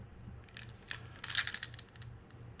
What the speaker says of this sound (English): put the final piece or the final washer on there just above the click tongue itself